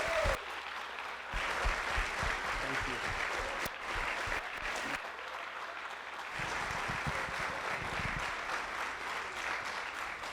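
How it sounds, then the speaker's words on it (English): Guests at a wedding reception break into sustained applause, a steady wash of clapping from a room full of people that carries on for several seconds with faint voices mixed in. "So big round of applause for these guys."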